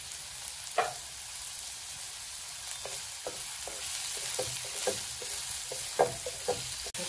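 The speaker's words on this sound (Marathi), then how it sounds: "मीठ आधी टाकला का जरा कांदो पटकन भाजतो." Onions frying with salt in a pan for a Konkan wild-vegetable dish, a steady close sizzle with scattered sharper crackles and scraping stirs, no voices.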